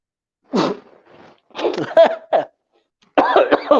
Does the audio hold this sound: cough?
yes